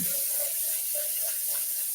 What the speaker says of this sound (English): And I'm going to add some water to that